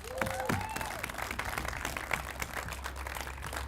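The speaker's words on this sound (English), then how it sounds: "give yourself a round of applause" Graduation ceremony audience applauding the graduates, a faint, distant spread of clapping from the crowd throughout.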